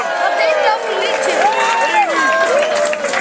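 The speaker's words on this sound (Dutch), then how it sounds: "Ja, yeah, applaus voor hem." Audience at a prize-giving where a boy holds up a trophy, with cheering and clapping mixed with excited voices and whoops, lively and fairly close.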